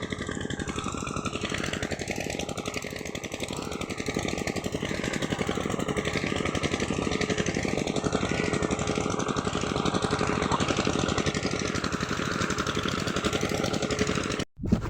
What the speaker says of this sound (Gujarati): જોવો મશીન ચાલુ કરે છે અમે